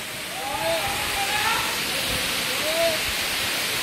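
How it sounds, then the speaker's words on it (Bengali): Broad, continuous roar of the tall Haribhanga waterfall plunging from a great height at speed, loud and near, with a faint high whistle or voice-like tone drifting above the rushing water. "খুব উঁচু থেকে পড়তেছে, আপনারা দেখতে পাচ্ছেন, খুব উঁচু থেকে, আর অনেক স্পিড।"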